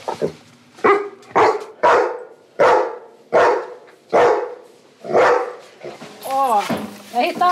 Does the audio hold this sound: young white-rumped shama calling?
no